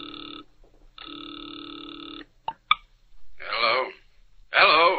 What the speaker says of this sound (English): the ringing of a distant phone in his ears